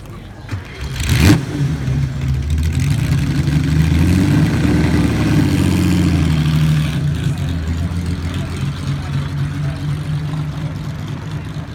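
A vintage car engine at a concours of elegance revs up and holds a deep, steady rumble, loud and close, settling into a lower drone.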